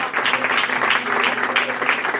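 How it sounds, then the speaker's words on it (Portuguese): A church congregation gives a sustained round of clapping, dense and steady from start to finish, with many hands close by. "A Ele uma salva de palmas."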